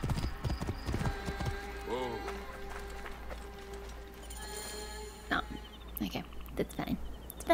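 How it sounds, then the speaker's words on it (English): Horse hooves clip-clop steadily at a run in the video game Assassin's Creed Origins, with a brief neigh partway through, under game sound effects and a voice talking. "Yes, I just stole somebody's horse."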